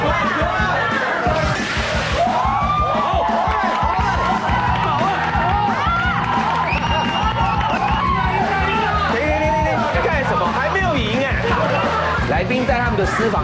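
A cooking-show studio audience erupts in loud, sustained cheering, yelling and whooping, a continuous roar of many voices with individual shouts rising above the crowd.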